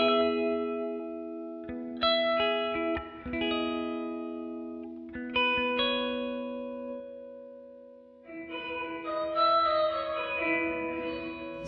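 Clean electric guitar notes and chords through a Hologram Electronics Chroma Console reverb ring out with long, washing reverb tails that sustain and blend together, played alone without any voices.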